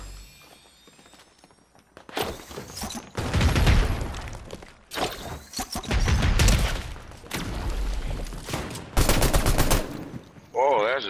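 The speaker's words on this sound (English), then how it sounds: "Oh, that's a delayed shot." Gunfire from the video game Fortnite rings out in several bursts of rapid shots and heavy blasts, loud and close, separated by brief quieter gaps with faint footsteps.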